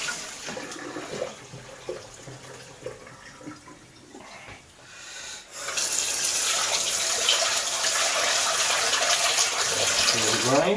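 Cooked rice is tipped into a sieve in a kitchen, first with soft clatter and movement, then a loud, steady gush of water pouring through and draining away for several seconds.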